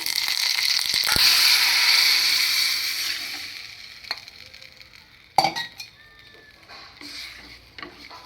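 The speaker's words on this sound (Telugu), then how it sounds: "తాలింపు అయితే వేసుకుందాం ఇంకా కొంచెం నూనె వేస్తున్నాం" Tempering for Bombay chutney crackles and hisses in hot oil in a pan on the stove, loud and dense at first, then fading into scattered pops and clinks.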